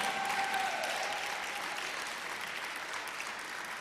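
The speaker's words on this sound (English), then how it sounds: "Give the president a round of applause." A crowd at a political rally applauds the president with a continuous wash of clapping, dense and sustained, fairly distant, slowly tapering with no speech over it.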